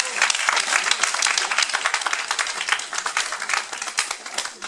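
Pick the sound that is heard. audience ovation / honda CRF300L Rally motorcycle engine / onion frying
audience ovation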